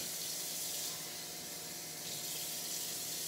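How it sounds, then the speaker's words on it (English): A cup of water poured from a running tap into an Instant Pot with a trivet inside, a steady continuous splashing rush that holds even and moderately loud for a few seconds, with no talking. "This needs a cup of water."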